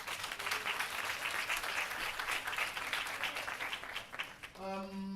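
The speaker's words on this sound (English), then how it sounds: "I think they deserve a big round of applause, the kids that are here." An audience at a World AIDS Day event applauds uniformed kids, a steady wash of many hands that fades near the end as a voice and a tonal sound take over.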